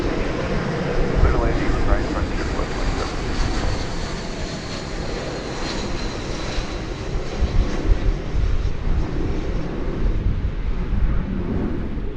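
American Airlines passenger jet taking off at DFW Airport, a loud, steady roar of jet engines that swells and rumbles throughout, with some talking nearby.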